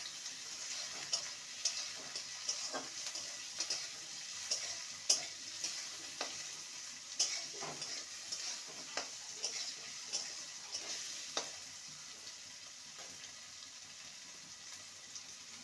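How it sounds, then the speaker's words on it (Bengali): Capsicum and tomato pieces fry and sizzle steadily in a pan while being stirred, with scattered scraping clicks of the spatula over a continuous hiss across the whole stretch and no voices. "ক্যাপসিকাম আর টমেটোকে ভালো করে নেড়ে নিয়েছি।"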